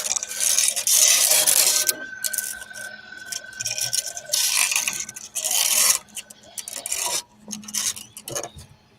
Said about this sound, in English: now I'm just sanding it back a bit